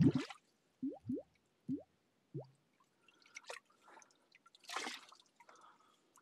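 A container dipped into the clear spring water of a Sahara Desert oasis, giving several quiet separate drips and plops followed by soft splashing and sloshing, close and faint in an otherwise still setting.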